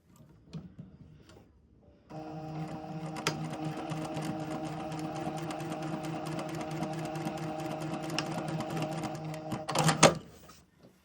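Sewing machine stitching along a folded fabric edge to tack down two layers of pleats, a steady close whirring run of needle strokes lasting about eight seconds, starting abruptly after brief handling noises and stopping with a final clatter.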